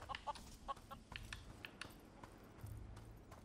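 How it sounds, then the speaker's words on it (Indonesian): Chicken clucking in the video game Xuan Yuan Sword 7: repeated short clucks and bursts over a busy game soundscape with low rumbling, moderately close and fairly faint overall. "Ada ayam nih."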